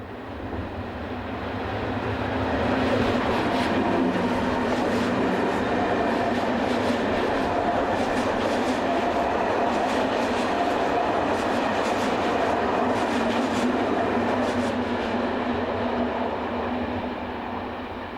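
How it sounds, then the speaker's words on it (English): A 1970-built class 560 electric multiple unit on an hourly stopping service between Břeclav and Brno rumbles past close by, a loud steady roar with faint wheel clatter that swells and holds throughout. "Our opening scene shows one of the hourly stopping services between Břeclav and Brno."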